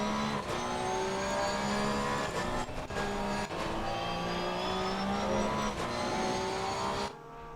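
A Porsche race car in the Assetto Corsa Competizione racing game roars at full throttle, its engine note climbing steadily through several upshifts with brief dips between gears, loud and continuous until it cuts off near the end.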